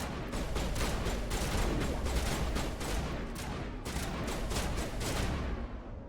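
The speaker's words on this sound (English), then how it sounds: "Mass Effect Frisbee grenades." Rapid bursts of grenade fire and explosions in the video game Mass Effect, a dense rattling barrage that runs almost continuously and loud for several seconds, with no talking over it.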